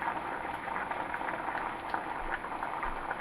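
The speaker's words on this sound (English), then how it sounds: "So when they come to a rolling boil like this, then you turn your heat down to half." Pot of Cajun beans at a rolling boil, a close, continuous bubbling and popping with irregular little splashes and no talking.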